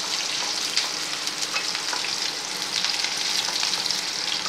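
Chopped onions and curry leaves fry in hot oil for hotel-style tiffin sambar, giving a dense, steady sizzle and crackle close by. Occasional stirring scrapes break through the sizzle, and no voices are heard.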